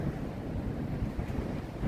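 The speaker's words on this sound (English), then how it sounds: "Yeah, it's windy." Steady wind buffeting the microphone, a continuous low rumble and roar with no other clear sounds.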